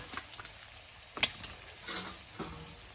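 Homemade ground masala spice added to a pan and frying with a soft, low sizzle, a few scattered spoon clicks and one sharper metallic tap partway through.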